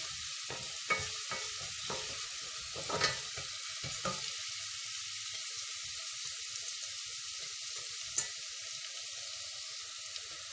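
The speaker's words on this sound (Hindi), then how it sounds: "ये लहसुन रखा है ये डालेंगे, इसको हल्का सा ब्राउन करेंगे" Garlic fries gently in oil in a pan, browning lightly before onions go in; a soft, even sizzle runs throughout, with scattered stirring clicks in the first few seconds and one sharp tap later.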